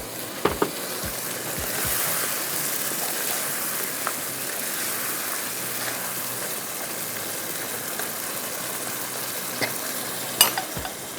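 Mutton frying in oily masala in a handi, a dense continuous sizzle like rain on a surface, punctuated by a few sharp clinks and scrapes of a spoon against the pot, close with no speech.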